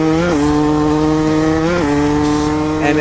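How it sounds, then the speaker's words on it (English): KTM two-stroke dirt bike engine revving during a top-speed run, a loud, close, buzzy high-pitched whine that steps up in pitch with gear changes, continuous and without speech. "So KTM has 2-stroke power,"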